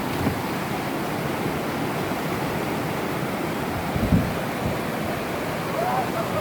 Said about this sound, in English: here goes Derek down the whitewater